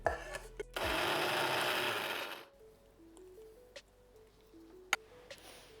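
An electric spice grinder whirs loudly for over a second while grinding Dhansak masala spices, then winds down and stops, leaving faint clicks and a quiet background.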